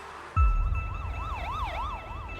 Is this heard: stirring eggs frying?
no